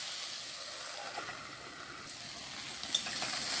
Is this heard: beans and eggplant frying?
yes